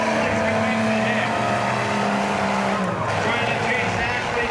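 Demolition derby cars rev and churn around the Cottage Grove Speedway arena with a steady loud engine roar and tire noise, while an announcer talks over the action.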